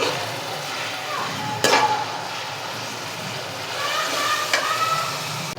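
Keema being stirred in a frying pan with onion and whole spices, a steady sizzle under scraping spoon strokes, with a sharper clatter near the start and another toward the end.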